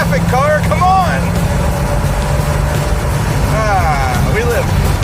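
An Oldsmobile 455-powered Mazda mini-truck accelerates in traffic with a loud, continuous low engine roar, heard from inside the cab while voices talk over it.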